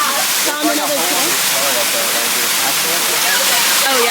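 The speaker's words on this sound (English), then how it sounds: "Made it to the waterfall." A waterfall at the end of a hike roars with a loud, constant wash of falling water that fills the scene, while people talk faintly beneath it.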